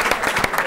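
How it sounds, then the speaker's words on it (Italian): A studio audience at a local Teramo television show breaks into brief, dense applause, a short burst of many hands clapping together. "Applauso, sì."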